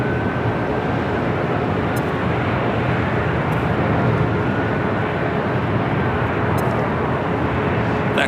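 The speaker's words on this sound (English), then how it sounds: "that Sun Country 737-800 coming in from Minneapolis, flight 426" A Sun Country Boeing 737-800 jet airliner at LAX, bound for Minneapolis, gives off a steady, loud broadband engine roar that holds even throughout, with no voices.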